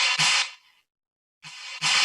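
A stretched snare drum sample processed with reverb, EQ and saturation hits twice, loud and bright with a long smeared tail, a silent gap between, then a quick double attack where one snare is layered onto another's front edge.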